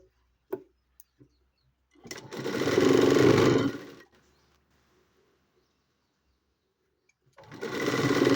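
Sewing machine stitching along the edge of a uniform dress, running in two loud, steady bursts separated by a near-silent pause with a few faint clicks.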